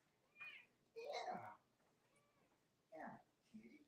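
A cat meows several times in short, rising and falling calls with pauses between them. The calls are fairly close, over quiet background noise.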